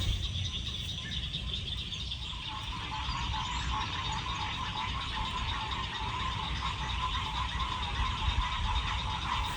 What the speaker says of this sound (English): Old frogs is a singing.